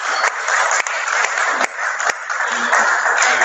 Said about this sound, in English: Let's give them a round of applause for coming in today.